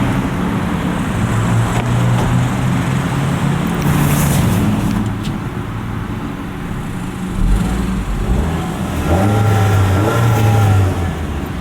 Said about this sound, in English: Exhaust sound is pretty good.